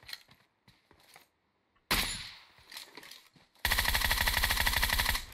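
Gunfire in the mobile battle royale game PUBG Mobile, near Georgopol: scattered distant shots and short bursts, then a loud close shot and a sustained rapid stream of automatic fire at the end.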